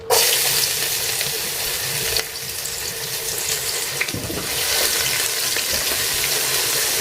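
Onion goes into hot oil with caramelized sugar and erupts in a loud, continuous sizzle that briefly surges, then settles into steady frying crackle with occasional stirring clinks.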